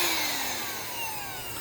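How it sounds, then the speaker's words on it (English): A vacuum sucks garden pests off plants outdoors, giving a steady, loud motor whine whose pitch sinks slightly over a short stretch, with no voices. "This way you just reach on up in there and vacuum them up."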